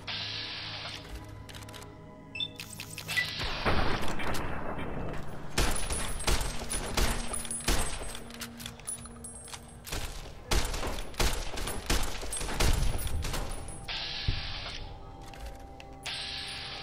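Varmint rifle gunfire in the video game Fallout: New Vegas, fired as repeated sharp shots and clustered bursts with short gaps and clicky mechanical sounds between them, loud and close, with no talking.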